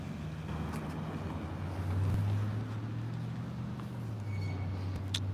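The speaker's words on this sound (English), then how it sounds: "There's an engine sound at the same time, I think, behind me." A car engine hums low and steady on a city street, swelling slightly as the vehicle passes by, with a constant outdoor rumble and no voices.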